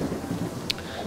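Rain and thunder on the planet Kamino in the Lego Star Wars game, a steady wash of rainfall with low rumbling underneath and a brief sharp crack near the middle, with no talking.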